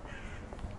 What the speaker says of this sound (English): Nothing better than the sound of crows.